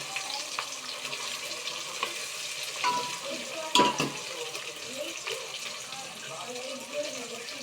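Onions frying in a pan, a moderate continuous sizzle with occasional stirring clinks and a louder scrape near the middle.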